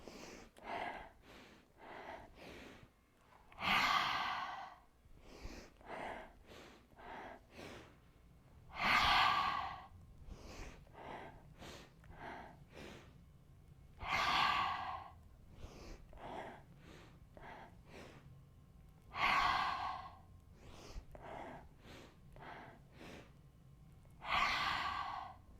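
Deep breathing during a slow yoga flow practice: long audible inhales and forceful exhales repeating in a steady cycle about every five seconds, with softer breaths between, close and alone without talk.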